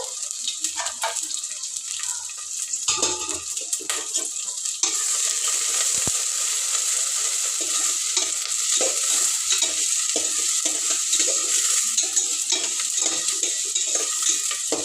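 Carrots frying in oil for pulao are stirred steadily, giving a continuous close sizzle with repeated scraping strokes of the spoon against the pan and no talking.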